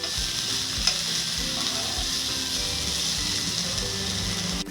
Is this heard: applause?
no